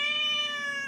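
A single cat meow, clear and close, a drawn-out tonal cry heard on its own.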